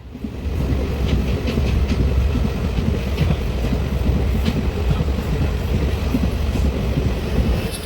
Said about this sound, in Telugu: నిజామాబాద్ జంక్షన్కి అయితే ఇప్పుడు ట్రైన్ అయితే వచ్చింది